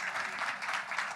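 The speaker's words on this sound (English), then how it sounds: "You're getting applause." Applause from the audience at a Libertarian Party of California state convention, a brief, moderately distant wash of clapping at low level.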